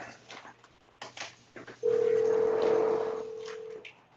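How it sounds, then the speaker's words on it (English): Google Assistant places a phone call: brief soft sounds give way to a steady electronic call tone that holds for about two seconds, then fades down at the end. "Sure, calling Yeshua Amen."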